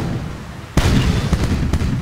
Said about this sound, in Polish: I jeszcze działo mi wybuchło.